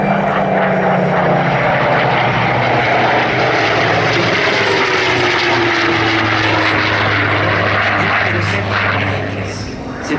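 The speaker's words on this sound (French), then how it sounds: "Cet avion, surtout, il est connu pour son moteur, Alain" A Spitfire Mk XIV propeller aircraft engine drones loudly and steadily as the plane flies past at an air show, the roar fading slightly at the end.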